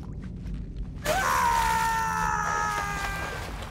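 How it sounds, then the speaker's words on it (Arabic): A male character in Uncharted 1 lets out a sudden drawn-out death scream that starts after a second of quiet and trails off over low game ambience. "هذه صرخة الموت"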